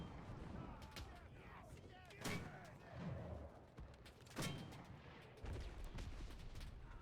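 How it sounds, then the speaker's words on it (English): Mortar rounds fired by a small mortar team in the WWII shooter Enlisted, D-Day setting, land as a few sharp distant booms spaced seconds apart over continuous battlefield noise. "We can bring in our small mortar team real quick. Do some mortaring."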